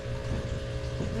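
Steady rushing water flows from a tap, a constant splashing stream close by with a faint hum underneath.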